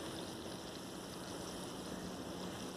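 A garden hose or sprinkler sprays water onto lawn grass at night, giving a steady, dense hiss of spray that stays even and continuous throughout, close and moderately quiet with no talking.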